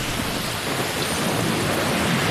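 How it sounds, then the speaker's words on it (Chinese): Heavy typhoon rain pouring down in Shanghai during a windy storm, a dense, loud, unbroken roar of drops pounding surfaces, with no voices. "哇，这个雨猛的"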